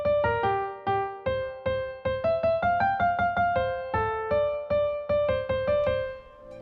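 A disjunct melody leaps between notes that lie apart, played as a quick run of crisp, struck keyboard-like tones, each decaying briefly, in a lively, steady rhythm.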